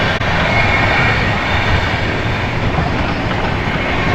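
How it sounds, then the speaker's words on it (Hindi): A passenger train runs along the rails near Tughlakabad in Delhi, a loud steady rumble with rhythmic wheel clatter heard from aboard, continuous throughout with no talking. "गाड़ी ठीक चल रही है।"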